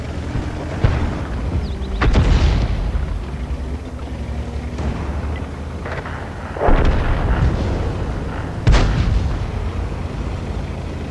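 Artillery fire in a German-language train-driving video game, with several heavy booming blasts landing at irregular intervals, loud and near, each followed by a rumbling tail over a constant low engine drone.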